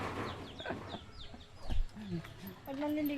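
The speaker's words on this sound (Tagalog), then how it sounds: "Ang laking manok oh." Chickens cluck and chatter close by, short clucks scattered through the clip, with people talking underneath and a louder thump midway.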